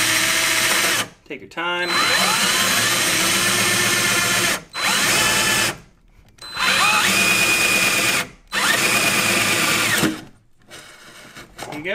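A power drill bores a 5/8 hole into a Toyota Tacoma truck bed while a Rough Country tonneau cover is installed, whining loudly in four long bursts separated by brief pauses, with a short spoken remark between runs.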